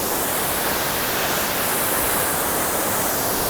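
A cascading river rapid on a Pacific Crest Trail section in Washington roars steadily as a dense, even rush of white water, loud and close, with no break and no voices.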